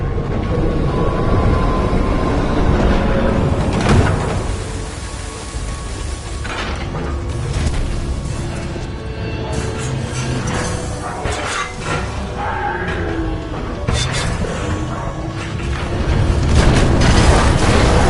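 Heavy booming explosions and shattering crashes from the Titanfall 2 single-player campaign roll on continuously, loud and dense, with a low rumbling bed beneath the blasts.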